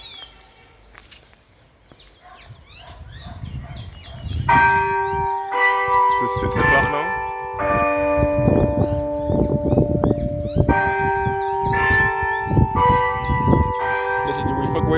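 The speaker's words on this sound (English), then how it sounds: "The bell is going to alarm just now." Church bell of St. George Parish Church in Barbados striking six o'clock: loud, ringing tones with long overlapping decays, struck at a steady rhythm, while birds chirp faintly in the background and a voice speaks briefly at the start.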